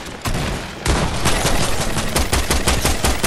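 Combat shotgun fire in Fortnite, a rapid string of loud, close blasts that keep going almost without a break after one short burst and a brief pause, with no voices.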